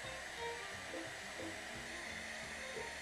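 An embossing heat tool blows a steady, close whir of hot air to melt clear embossing powder on pigment-inked cardstock. The hum stays even and unbroken throughout, with no talking.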